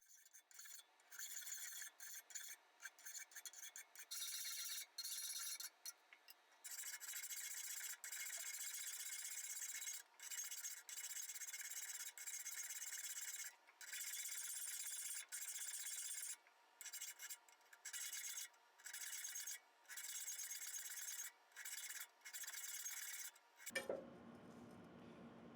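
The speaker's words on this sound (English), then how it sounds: "a lot of it does need to be done with a file" A hand file works a forged iron fleur-de-lys in long, steady rasping strokes with brief pauses between them, close and bright, with no voices.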